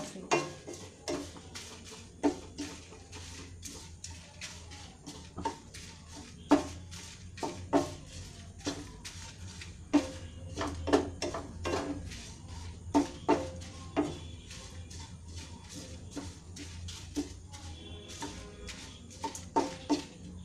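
Roasted chammanthi podi stirred in a pan with a metal utensil, giving steady scraping and frequent light clinks against the pan in an uneven rhythm, close and moderately quiet.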